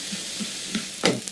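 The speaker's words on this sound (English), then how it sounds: "adding just a little bit of the broth in there just to kind of get the rice to sizzle" Soft sizzling as rice fries in a pan with a little broth, with a brief stirring scrape near the end, close and quiet.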